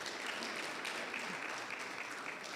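An audience at the launch event of a Ghanaian venture capital and private equity association claps steadily and continuously, with a dense, even patter of many hands and no talking on top.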